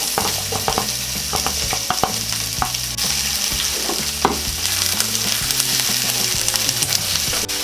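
Onion fries in a pan with browned garlic, giving a bright continuous sizzle with frequent spatula scrapes and clacks, close and without speech.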